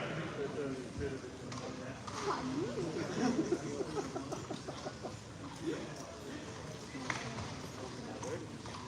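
Haflinger horses, several 3-year-olds and a 4-year-old mare, clip-clopping into a sale ring, their hooves steady and close beneath a busy crowd and voices talking over the whole stretch.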